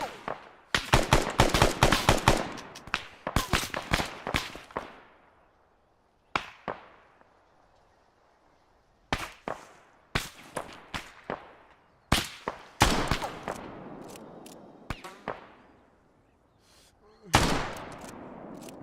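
Gunfire in the Antistasi mod of Arma on the Sahrani campaign: rapid bursts and single rifle shots crack close and loud, clustered early then spaced out, each with echoing decay, occasional distant reports between.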